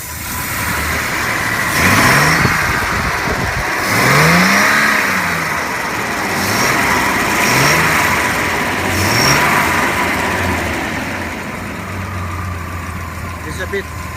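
A Jaguar XJ6 engine is cranked on its starter button, then catches and runs roughly with uneven revs, likely from worn spark plugs and leads. It is heard up close over about fourteen seconds while someone talks over it.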